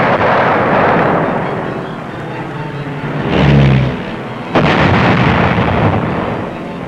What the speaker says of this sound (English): Using some old German battleships as targets, Billy Mitchell showed what precision bombing could do.